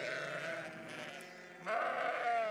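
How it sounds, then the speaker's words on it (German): A flock of sheep on a farm in Namibia bleats repeatedly at close range, several overlapping calls growing louder toward the end, with no voices. "Zunächst werde ich von einer Herde Schafe begrüßt."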